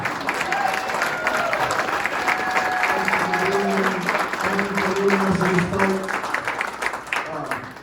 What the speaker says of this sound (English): Another round of applause for Bernie.